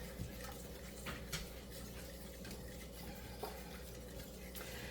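A spoon steadily stirs chocolate gravy in a pot on the stove, a soft continuous scraping and bubbling with a few louder scrapes, no talking.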